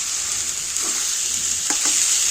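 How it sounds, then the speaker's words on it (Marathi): Pav bhaji masala with spices sautés in a pan, a steady bright sizzle with a couple of soft scrapes from stirring. The sounds are close, and nobody speaks. "व्यवस्थित परतून घ्यायचं"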